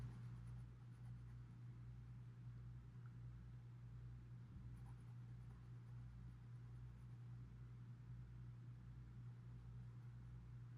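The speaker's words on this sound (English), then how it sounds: "So I'm getting my lighter pencil again." Colored pencil drawing on paper while finishing a girl's hair, a faint continuous scratchy shading sound over a low steady hum, with soft rhythmic strokes.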